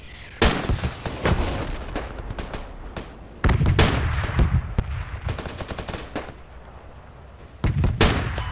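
Gunfire in the military shooter Project Reality on the Bijar Canyons map, sharp near shots and rapid bursts cracking irregularly, with heavier volleys and booming reports recurring, and no talking over it.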